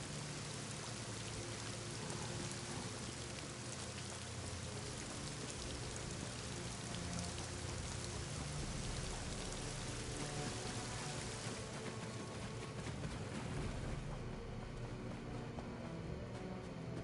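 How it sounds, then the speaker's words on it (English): Steady rain pours down in the video game The Elder Scrolls Online, a constant hiss of drops on surfaces, unbroken and fairly loud throughout, easing slightly toward the end. "It's raining."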